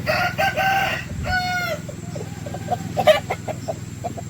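A fighting-breed cockerel crows loudly and close at the start on a farm among many roosters, then softer clucks and scattered fowl calls follow.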